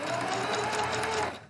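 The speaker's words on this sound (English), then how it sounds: "So now I'm at my sewing machine." A sewing machine stitches fabric with a fast, steady mechanical whir, close and continuous, slowing to a stop at the end.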